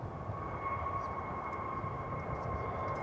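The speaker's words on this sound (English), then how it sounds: "It is American Airlines flight 1287 from Austin, Texas, a 737-800." An American Airlines Boeing 737-800 at DFW Airport gives a steady engine roar with a faint whining tone, a continuous distant rumble.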